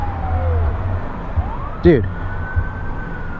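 Ambulance siren drawing nearer along a city street, its faint wailing tone sweeping up and down under traffic rumble while someone talks briefly.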